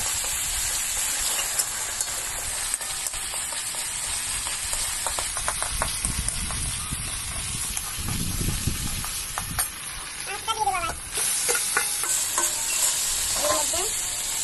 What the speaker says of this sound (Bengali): আর কয়েকটা লবঙ্গ ভালো করে ভেজে নেব।